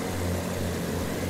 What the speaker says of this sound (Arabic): هذا بومبر